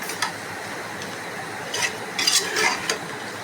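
Chicken biryani ingredients are mixed in a pot over high flame, a close rasping stir with scraping bursts and a soft sizzle underneath, no voices.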